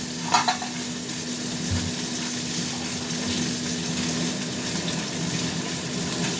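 A pot of Bengali fish curry with ridge gourd, pumpkin and potato simmers with a soft, steady bubbling hiss, with a short stirring clatter near the start and no talk.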